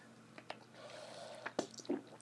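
A person sips water during a break in a golf swing analysis, making a few soft, close wet gulps and small mouth clicks over a quiet background, with no talking.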